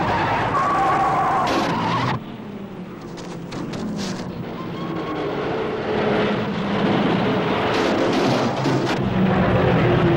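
1934 Grand Prix race cars speed past with loud, continuous engine roar and rushing noise that rises and falls, heard close and without speech.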